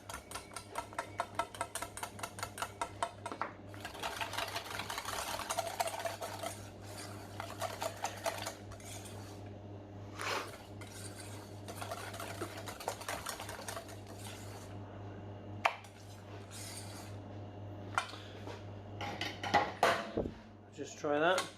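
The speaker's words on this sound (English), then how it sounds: "Slightly harder to whisk with one hand." Thick homemade mayonnaise is whisked by hand in a bowl, a fast rhythmic clatter of the whisk against the bowl that runs steadily, then pauses and resumes in shorter bursts, close by.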